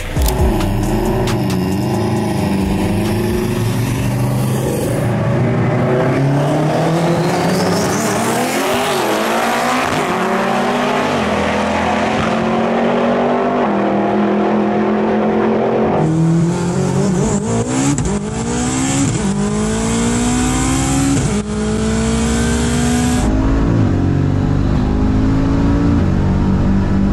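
A 1600 hp Jeep Trackhawk racing an 800 hp all-wheel-drive Honda Civic: loud, sustained engine roar rising in pitch through the gears, with a sharp shift and renewed howl midway, close and continuous without speech.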